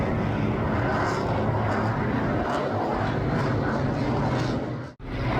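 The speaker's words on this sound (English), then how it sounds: "Modern fighters escorting World War II's P-51 Mustang." Loud, continuous jet roar at an airshow as modern fighter jets fly in escort formation with a WWII P-51 Mustang, a steady broadband rush that holds throughout before cutting off abruptly near the end.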